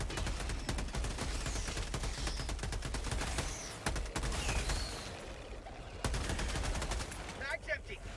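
Rapid automatic gunfire from Helldivers 2 keeps going in repeated bursts against bugs, with a short pause near the four-second mark and then more shooting. The gunfire is fairly steady and close, with faint game sounds underneath.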